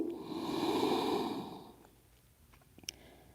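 Deep, slow breathing during a yoga class, a long drawn exhale swelling and fading close to the mic, followed by quieter breaths and a small sharp sniff near the end.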